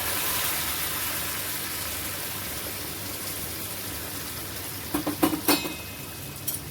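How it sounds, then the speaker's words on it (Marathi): Hot boiled water goes into a pan of stuffed ridge gourd, a soft steady simmering hiss followed by a few brief splashy pours and sizzles near the end, with no voices. "तर मी इथे पाणी उकळत ठेवलं होतं ते घालते"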